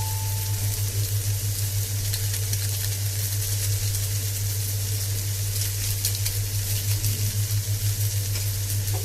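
Steady loud sizzling of chicken noodles being fried and stirred with two packets of spice mix in a pan, a continuous close hiss with faint scraping from stirring and a low hum underneath.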